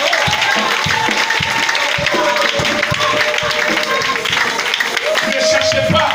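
A church congregation applauds and cheers for God during a French-language service, loud sustained clapping from a crowd with rhythmic hand beats and mixed voices throughout.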